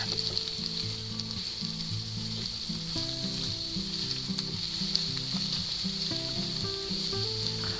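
Spinach leaves sautéing and wilting in a pan for an omelet with onions, a loud steady close sizzle with a constant hiss and occasional light stirring ticks.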